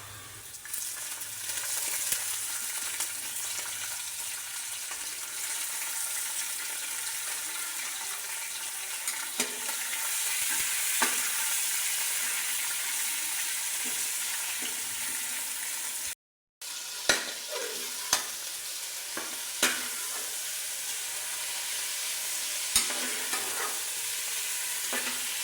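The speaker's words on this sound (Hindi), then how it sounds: "चिकन को मैं फ्राई कर रही हूँ।" Chicken pieces fry in a pan with browned onions for a Chicken Korma, giving a steady, close sizzle stirred now and then, with one brief break and light clinks of the spoon against the pan.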